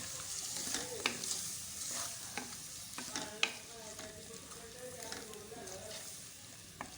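Green peas cooking in a pan for aloo matar curry, a soft steady sizzle with occasional stirring clinks and scrapes, close up and fairly quiet.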